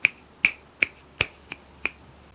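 Six crisp finger snaps at a steady pace, moving from left to right in stereo, sharp and clicky, with quiet background between them.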